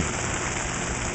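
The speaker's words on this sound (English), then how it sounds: "The garden, I love the garden when it rains." Steady rain pattering on surfaces in La Perla Garden, a dense, even, close wash of falling drops with no voices.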